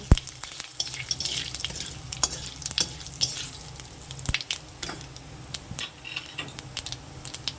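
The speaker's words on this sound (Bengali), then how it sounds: "এবার আমি লাল করে ভেজে নেব।" Fennel seeds, cumin, dried chili, a bay leaf and garam masala fry in hot oil with a constant close sizzle, punctuated by sharp clinks and scrapes of a spoon stirring against the pan.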